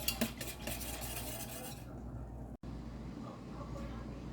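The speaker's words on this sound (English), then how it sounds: "And then I'm gonna whisk it up." A whisk clatters rapidly against the inside of a metal pot of dandelion jelly mixture, a steady close scraping rhythm with a brief break partway through.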